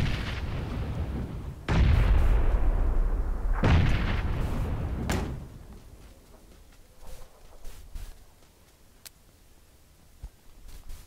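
Grenade blasts in PUBG, two loud, heavy explosions in quick succession with a third sharper burst, the rumble then fading into quieter scattered battlefield noise.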